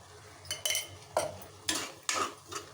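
Spices fry for street-style pea chaat while a spoon stirs the pan, giving several sharp scraping clinks of metal on metal over a faint sizzle, close and intermittent with no talking.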